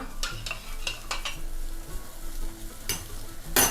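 Sauce stirred in a frying pan as cornstarch slurry is added for Thai-style dressed tofu, with steady sizzling and repeated scraping strokes of a utensil against the pan, a louder clatter near the end.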